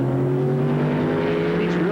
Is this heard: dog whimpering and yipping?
no